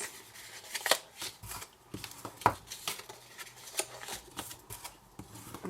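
Soft, close papery rustles and crisp creases as paper card pieces for a hexagon tealight box are folded by hand, in irregular quiet bursts.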